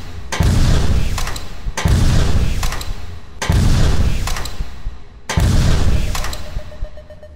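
Four heavy, punchy gunshots from a weapon in the video game Ansible, each a loud booming blast with a ringing tail, spaced evenly about every one and a half seconds, with no voices.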